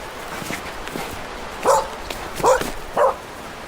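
A puppy barks outdoors, giving three sharp, close yips in quick succession after some softer whimpering sounds, with no talking during the barks.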